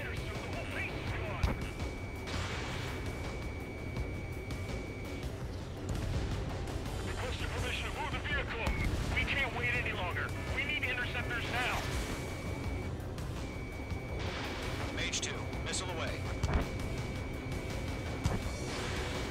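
Sustained anti-air gunfire and combat noise in a real-time strategy video game battle, a steady dense rumble of rapid shots and blasts running throughout, with voices talking over it.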